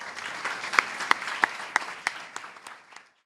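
An audience at a university honorary doctorate ceremony applauds, steady clapping with several sharp louder claps standing out, gradually fading toward the end.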